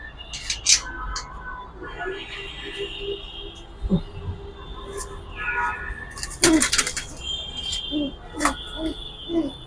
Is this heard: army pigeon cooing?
yes